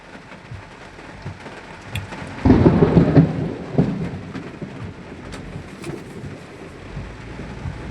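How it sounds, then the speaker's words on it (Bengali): Heavy rain and a rumble of thunder heard from inside a car being driven through a downpour in Dhaka: steady rain hiss throughout, with a loud thunder roll swelling in the middle, then fading back under the rain. "অনেক দিন পরে বৃষ্টি দেখতে পাচ্ছি"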